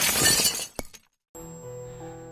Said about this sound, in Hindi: अचानक कांच के बर्तन के गिरने की आवाज ने मुझे चौंका दिया।